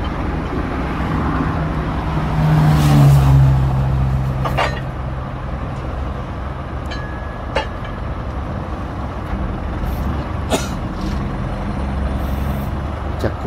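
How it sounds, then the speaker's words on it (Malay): A tow lorry rumbles loudly and steadily up close, its heavy engine drone swelling briefly early on with a short hiss, then settling into an even roar. "Lori towing."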